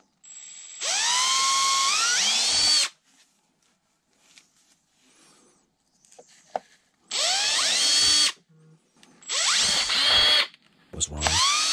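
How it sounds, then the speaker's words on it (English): A power drill whines in three bursts drilling into a plastic RC car battery tray, each spinning up in pitch and grinding briefly, separated by quiet pauses. "just take the drill bit and just drill into it"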